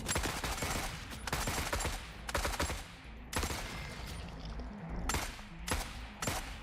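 An AK rifle in the game Forever Winter fires repeated rapid bursts, loud and close, broken by short gaps of quiet.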